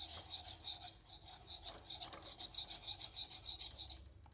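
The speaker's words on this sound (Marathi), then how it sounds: "आता त्यात थोडंसं मैदा घालूया आणि त्याला थोडंसं असं मिक्स करायचं" Flour being stirred into butter and oil in a pan, a steady rhythmic scraping and rasping of the spoon against the pan bottom, close and fairly quiet, with no talk.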